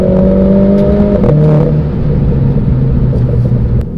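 A Renault Clio RS engine with a Powerflex lower torque mount drones loudly up close, accelerating from low revs, its pitch steady at first and then dropping lower as the revs change.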